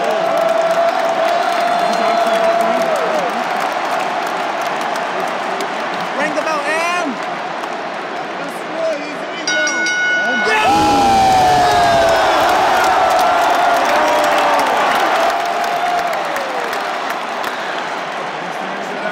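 A large arena crowd at WrestleMania 38 roars and cheers loudly and continuously, with whoops and shouts swelling midway, while people talk nearby over the din.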